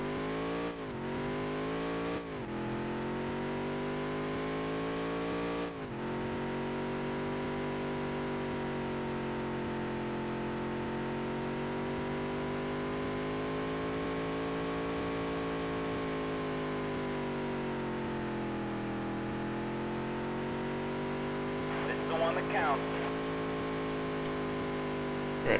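A race car's engine runs through a lap in Dirt to Daytona career mode, with a few quick gear-change blips early on, then a long sustained drone that rises and falls with speed, plus brief tire noise near the end.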